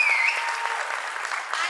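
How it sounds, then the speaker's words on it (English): Brief burst of audience applause at a teen pageant award night, a dense wash of clapping heard from a distance in a large hall. "Huge applause I want."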